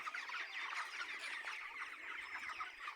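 Chickens cluck and squawk continuously on a poultry farm, a dense, fairly faint chorus of many birds with no talk.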